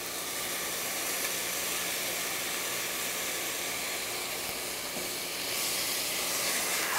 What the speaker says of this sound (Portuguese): Aí a gente refoga bastante